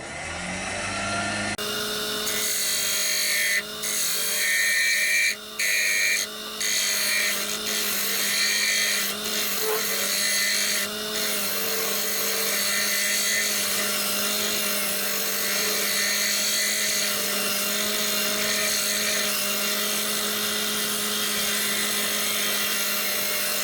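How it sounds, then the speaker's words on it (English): An ash bowl turning on a wood lathe while a half-round scraper shapes it, giving a steady, loud motor hum and a continuous scraping hiss, with brief dips as the tool lifts off the wood. "just running around with my scraper and taking a bit off"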